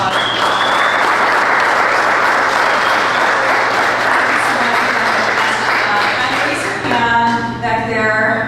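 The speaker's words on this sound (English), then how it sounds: "Give a round of applause." Dense, sustained applause from a large audience at a panel talk on blockchain and the digital economy, steady and loud throughout before thinning near the end as a few voices come through.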